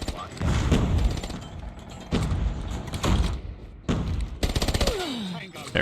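Rapid automatic weapon fire sprays in bursts in COD Mobile, several loud rattling volleys separated by short gaps, with distant shots and clanks between them.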